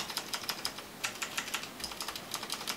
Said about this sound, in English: The clicking sounds are so cute.